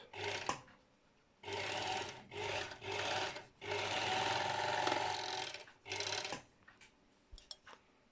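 A Textima 8515 overlock sewing machine runs quietly in several short bursts and one longer stretch, a soft mechanical whir with a steady low hum, separated by brief pauses and a few small clicks.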